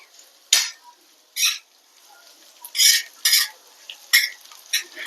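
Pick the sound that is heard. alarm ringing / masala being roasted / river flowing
masala being roasted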